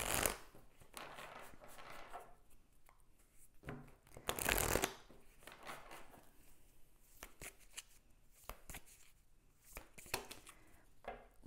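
Tarot cards are shuffled close up in bursts of soft riffling and flicking, with one louder sustained riffle in the middle, quiet overall and without speech.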